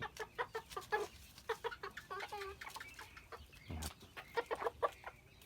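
A young bantam rooster clucks in quick, close bursts, with one short louder squawk partway through, in a quiet farmyard.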